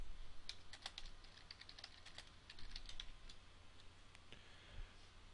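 Quick bursts of keystrokes clatter on a computer keyboard as someone types while playing SimCity, the clicks faint and uneven with short pauses between runs.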